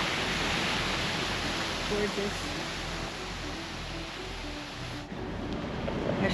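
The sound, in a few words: waterfall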